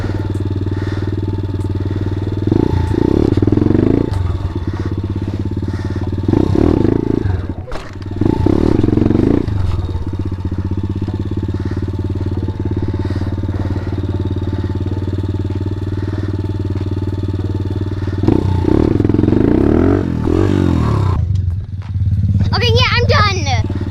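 A pit bike engine during wheelie practice, a close, continuous low rumbling idle with repeated revving surges and clatter, while a voice talks over parts of it.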